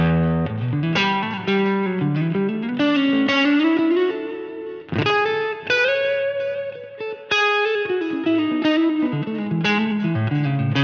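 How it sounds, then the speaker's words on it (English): Overdriven electric guitar through a ToneX Silver Champion Dirty amp model with reverb and delay, playing melodic lines with echoing repeats and a roomy wash of reverb, loud and continuous with no voices. "So reverb and delay."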